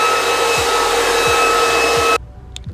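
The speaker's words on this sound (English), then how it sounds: "we vacuum that away or blow that away" Vacuum cleaner sucking up metal shavings inside a Mercedes Sprinter van during a window installation, a loud steady motor whine with hose scraping and rattling, then it cuts off abruptly leaving faint clicks.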